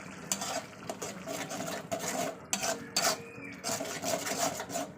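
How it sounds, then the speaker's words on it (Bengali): Egg curry with turmeric and salt being stir-fried in a pan, a spoon scraping and stirring in repeated rough strokes over a faint sizzle, close by with no talking. "এক চামচ হলুদ গুঁড়ো লবণ দিয়ে দিচ্ছি দিয়ে ভালো করে আবার কষিয়ে নেবো"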